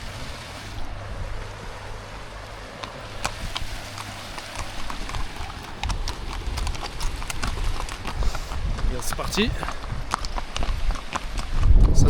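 Horse hooves clip-clopping on a mountain ride at 2000 m in the Caucasus of Georgia, an uneven series of close knocks building in loudness toward the end, with brief talk early on and rushing background noise.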